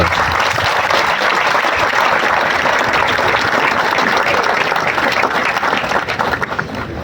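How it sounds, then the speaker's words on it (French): A large assembly at an official gathering in Haut-Katanga applauds for the national service, a loud, dense, sustained wash of clapping that fades slightly at the end. "J'invite l'auguste assemblée ici d'acclamer pour le service national."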